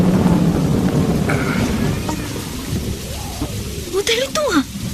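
Heavy rain falls steadily with low rumbling thunder underneath, a dense, close downpour that thins a little toward the end while faint voices and other sounds break through.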